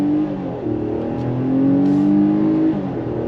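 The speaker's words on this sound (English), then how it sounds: "And now we're gonna go on throttle." A 2024 Infiniti QX60 SUV with a naturally aspirated V6 accelerating on throttle, a steady loud engine drone that rises in pitch from inside the cabin, with no talk.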